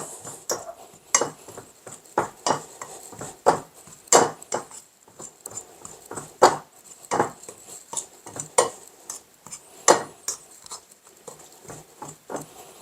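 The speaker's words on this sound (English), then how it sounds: "Mix it all together." Scone ingredients with sugar mixed in a bowl: a steady run of sharp clinks and scrapes from a utensil against the bowl, repeating roughly every half second, close and fairly loud with no talking.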